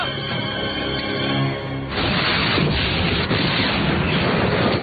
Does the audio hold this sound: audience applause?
no